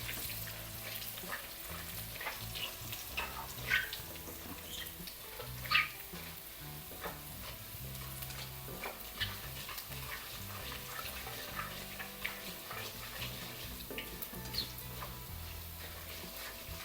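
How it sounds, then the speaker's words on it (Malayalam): Rice, small shallots and dried red chillies fry in oil for a thoran, making a soft, steady sizzle with occasional stirring scrapes, fairly quiet throughout. "അരിയെല്ലാം നല്ല മൂത്ത്, മുളകെല്ലാം മൂത്ത്."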